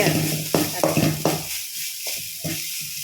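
Coconut fries in a pan with a steady hiss and sizzle, broken by several sharp scraping stirs of a utensil against the pan, close and moderately loud.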